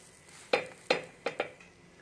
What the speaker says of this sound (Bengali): আমি কিন্তু অল্প তেল দিয়ে ভাজছি